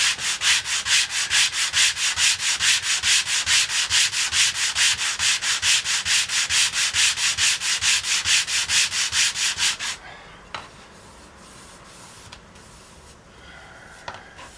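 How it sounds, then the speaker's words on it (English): Sandpaper rubs back and forth over wooden guitar back bracing in quick, even strokes, close and loud for about ten seconds, then stops and leaves a quiet workshop with a few soft knocks. "So now I'm going to sand some more."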